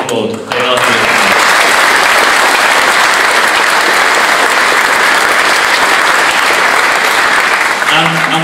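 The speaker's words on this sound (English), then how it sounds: "to whom I'd like you to all applaud" A conference audience at a political party gathering in Eastbourne breaks into loud, sustained applause, dense clapping that swells in after a brief opening moment and carries on evenly for several seconds before easing at the end.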